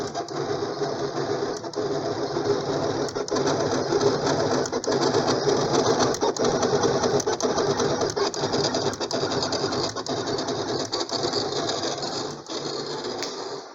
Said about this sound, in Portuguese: essa é a Camel 4 recortando o stencil de PCB utilizando o Bluetooth conectado ao computador